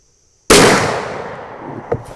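A single loud, sharp .50 caliber muzzleloader rifle shot cracks close by and rings out in a long decaying echo across an open range.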